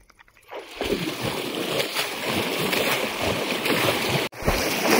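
Dog splashing and sloshing in shallow water outdoors, a continuous rough wash of splashes close by with a brief break near the end.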